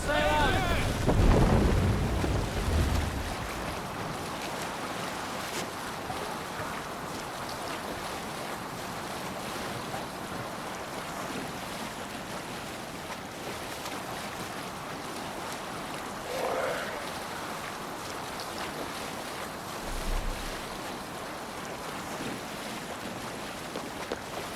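Sailing ship on open sea in Assassin's Creed Valhalla: continuous wind and wave wash with creaking hull and sail noise, a heavier splash at the start and brief thumps later, steady and moderately loud throughout.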